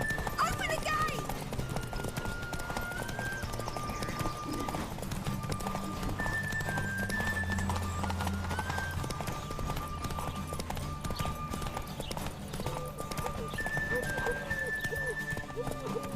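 Horse galloping in a race in the video game The Witcher 3: steady rhythmic hoofbeats under game music, with voices talking over the action throughout.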